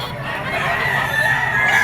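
Bull stag rooster of the lemon sweater bloodline, for sale at a poultry market in Padre Garcia, Batangas, crows in one long drawn-out call mixed with clucking, close by, over a busy market background.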